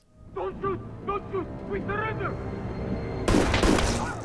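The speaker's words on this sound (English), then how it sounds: "He literally just ricocheted a bullet" A gunshot with a sharp bullet ricochet from a Daredevil TV episode bursts out near the end, loud and abrupt, after several seconds of people talking.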